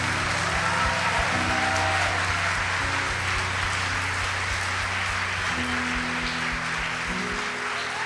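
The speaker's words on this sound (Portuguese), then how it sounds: "Uma salva de palmas." Church audience claps for a group of people being baptised as they are called to the stage, a continuous dense wash of applause over a low sustained musical drone with no talk.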